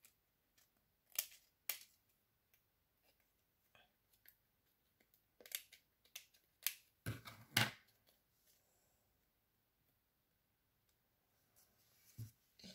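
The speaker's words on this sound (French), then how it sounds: "On va venir découper maintenant ce qui dépasse." Scissors cutting off excess paper in a craft project, a series of short, sparse snips and rustles, fairly close and quiet, with long gaps between cuts.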